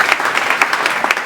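A church congregation applauding together, dense loud clapping with a quick steady rhythm, close and continuous throughout.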